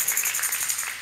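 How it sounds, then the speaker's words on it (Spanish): A church congregation claps briefly, a dense patter of many hands applauding indoors for about a second. "Denle un aplauso al Señor."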